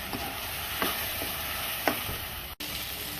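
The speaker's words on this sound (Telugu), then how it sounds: "అల్లం వెల్లుల్లి పేస్ట్ కూడా పచ్చివాసన పోయేదాకా కొంచెం ఫ్రై అవ్వాలి" Ginger garlic paste frying in a pan for egg gravy curry, a continuous close sizzle with a few soft stirring scrapes and a brief cut near the end, no talking.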